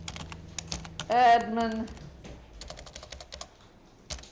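Someone types on a computer keyboard with quick, light key clicks near and fairly soft, pausing briefly while a voice speaks a single word.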